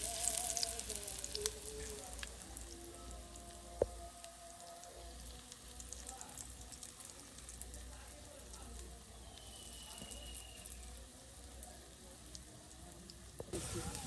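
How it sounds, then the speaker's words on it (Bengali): Iftar fritters such as potato chops, aubergine beguni and onion piyaju deep-frying in bubbling oil in a village kitchen, a steady close sizzle and crackle running throughout beneath someone talking. "বাহ, একদম তেলে চুবু চুবু করে কিন্তু বলকে বলকে ভেজে নেওয়া হচ্ছে।"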